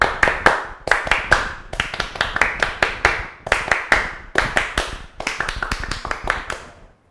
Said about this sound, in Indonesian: Salam Pramuka. Tepuk Pramuka.